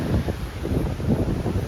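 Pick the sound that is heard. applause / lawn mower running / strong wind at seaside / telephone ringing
strong wind at seaside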